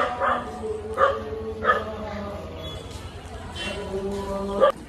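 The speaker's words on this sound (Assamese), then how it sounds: "সেইফালে কুকুৰে পূৰা ভুকি আছে" Dogs bark in short repeated bursts at a moderate distance, with faint talking and steady background noise underneath.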